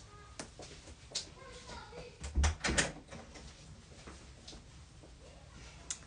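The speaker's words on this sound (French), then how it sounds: "Je vais juste fermer la porte." A door is shut in a small workshop, a soft nearby thud with a brief rattle amid quiet room noise and light ticking.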